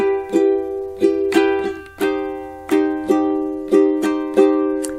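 Ukulele strumming the chords of a song, a series of clear, ringing strums and plucked chord changes in a steady unhurried rhythm, close and bright with no talking.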